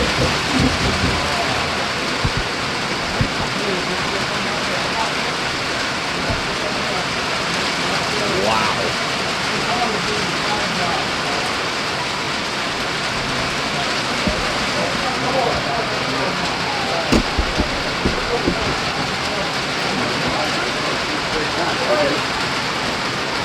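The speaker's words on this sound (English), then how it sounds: "The rain has come." A heavy rainstorm pours down during a college football game, Trenton Bulldogs at Princeton Tigers, as a dense, unbroken roar of rain with faint rumbles and occasional sharp knocks, with voices partly buried beneath it.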